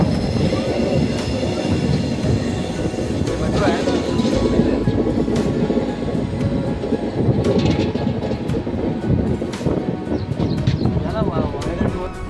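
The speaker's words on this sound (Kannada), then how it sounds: "ಈಗ ಟ್ರೈನ್ ಫುಲ್ ಪಿಕಪ್ ತೊಗೊಂಡು ಒಂದು ಅರೌಂಡ್ 70-80 ಕಿಲೋಮೀಟರ್ ಸ್ಪೀಡ್ ಹೋಗ್ತಾ ಇದೆ" An express train rumbles along at about 70-80 km/h, a steady loud roar of wheels on rails with faint rhythmic clatter and squeaks throughout.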